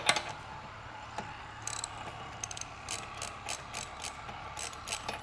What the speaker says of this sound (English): we're going to remove this spark plug. It's a 13/16 socket,